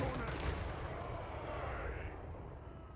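An organ gun fires a volley in Total War Warhammer 3, a dense burst of loud artillery blasts that rumbles and slowly fades over a few seconds.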